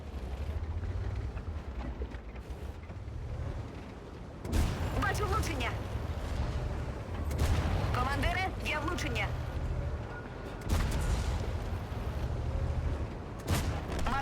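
Tank cannon fire in a World of Tanks-style battle with the VK 36.01 H, heard as several heavy booming shots spread across the stretch amid game noise, with someone talking over much of it.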